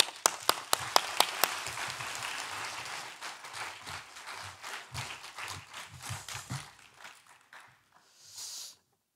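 A church congregation at a Sunday worship service applauds to welcome a missionary, a dense roomful of clapping with a few sharp close claps at the start, fading out toward the end.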